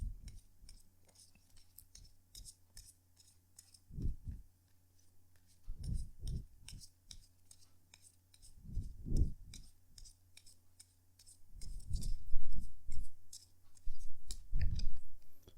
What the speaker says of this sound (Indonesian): Jadi sebentar ya, kartunya dikocok dulu sebelum kita mulai.